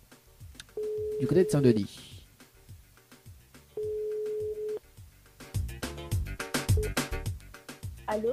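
During a French radio show call-in, a telephone ring tone sounds twice as long steady electronic beeps, heard over studio music with someone speaking in between.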